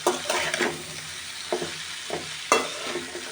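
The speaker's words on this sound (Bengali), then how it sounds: "এবার নেড়ে চেড়ে মিশিয়ে ঢাকনা দিয়ে দেব।" Mixed vegetables frying in a pan, being stirred and tossed for a home breakfast, with scraping strokes and a steady sizzle coming in a few distinct bursts, close and fairly loud, with no talking.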